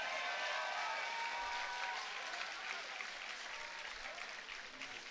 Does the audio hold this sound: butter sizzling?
no